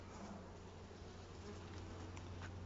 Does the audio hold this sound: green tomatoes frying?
no